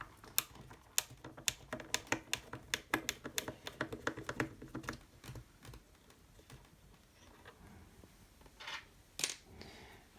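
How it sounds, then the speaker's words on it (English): A small screwdriver works loose the screws holding a panel on a homemade USB hub box for an iMac, giving a quick run of sharp close clicks and taps that thin out into a few scattered clinks. "I have these screws securing. Let me loosen them quickly."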